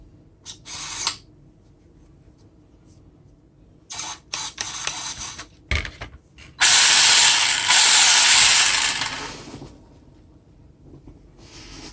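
Short whirring bursts of a small electric motor in an Arrma Voltage RC car spin up, then a loud sustained high-pitched whine with hiss runs for about three seconds before cutting off.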